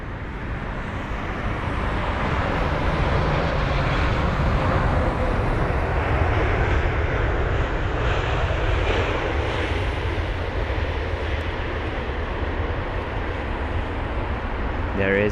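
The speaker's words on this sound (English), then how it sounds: "There is the Saudi 787-10 with the neon special livery." A Saudi Boeing 787-10 airliner in a neon special livery arriving at London Heathrow, its engines giving a steady, loud broadband roar that holds throughout.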